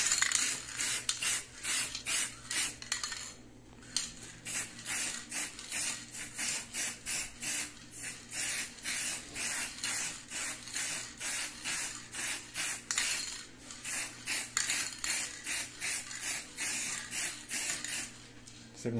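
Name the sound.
spray paint can spraying high-temperature paint on appliance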